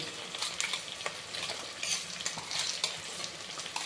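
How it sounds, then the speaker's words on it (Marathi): Onions sautéing with ginger garlic paste in a pan for chicken biryani give a steady, close sizzle and crackle, broken by the soft scrapes of stirring throughout. "हे सर्व एकत्र परतून घेऊया थोडे"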